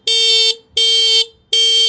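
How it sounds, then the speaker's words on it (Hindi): Three evenly spaced bursts from the single electric horn of a TVS Radeon 110 motorcycle, each about half a second long, loud, close and steady-toned with short gaps of silence between them. "इस गाड़ी में सर आपको सिंगल हॉर्न देखने को मिल जाता है"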